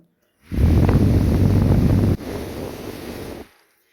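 A strong rush of air blows steadily from a small battery-powered fan close to the microphone, loud for a couple of seconds then dropping to a softer whoosh before stopping.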